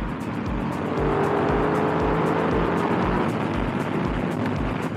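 A 2010 KTM 990 Adventure R motorcycle ridden on hill roads, its engine droning loud and close throughout with steady low-pitched pulsing and wind noise, no talking.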